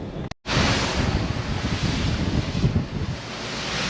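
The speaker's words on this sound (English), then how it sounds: "As you can hear, when I stand up, the wind's blowing pretty good" Strong wind rushing and buffeting across a microphone aboard a yacht underway, a loud continuous roar with gusty swells and a faint hint of water, following a brief dropout at the start.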